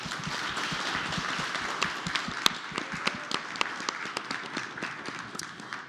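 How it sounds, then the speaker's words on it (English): An audience at a startup demo day applauds its finalists with a dense, steady wash of clapping, individual claps popping out sharply near the microphone, gradually tapering toward the end. "can we give our finalists another round of applause, please?"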